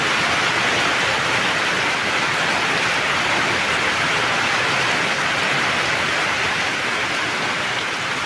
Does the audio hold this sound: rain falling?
yes